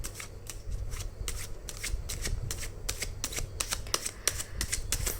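Tarot cards being riffled and shuffled during a reading, a steady run of quick crisp flicks and slaps, close and fairly loud, with no talk over them.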